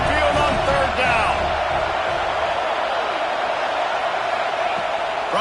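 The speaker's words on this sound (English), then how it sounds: "And the Tide crowd rolling noise down onto Saban Field on 3rd down." Stadium crowd at Alabama's home field during a Tennessee versus Alabama college football game, roaring on third down as a dense, continuous loud wash of voices with scattered shouts and whoops.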